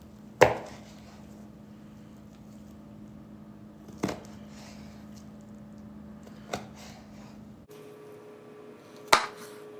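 A knife quarters food on a cutting board in four sharp, isolated chops spaced a few seconds apart, close and crisp against a quiet room with a faint steady hum.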